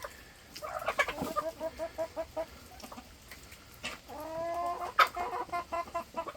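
Chickens cluck and squawk in a farm chicken run, a near, busy flock with repeated rhythmic clucks, a couple of louder calls and a drawn-out crowing-like cackle partway through, no talking.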